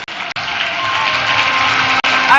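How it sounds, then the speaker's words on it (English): A crowd claps at an outdoor political rally for a party manifesto launch in Winneba, with a loud, steady wash of applause that swells slightly and holds throughout. "I want all of you to clap in appreciation"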